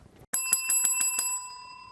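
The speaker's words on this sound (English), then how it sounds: "you just heard the CynCity bell signaling the end of our CynCity Citizens meeting" A small bell rings to mark the end of a citizens' meeting: six quick, bright, evenly spaced dings close by, leaving a ringing tone that fades out.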